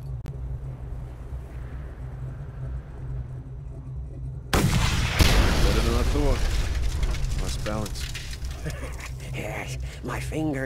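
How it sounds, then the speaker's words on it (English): Sniper rifle shots fire in the Mad Max video game, a sharp loud burst hitting midway and followed by echoing, rumbling game action and mechanical clatter over a steady engine-like drone, with voices talking throughout. "Time to put this sniper rifle to the test."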